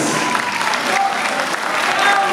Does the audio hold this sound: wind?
no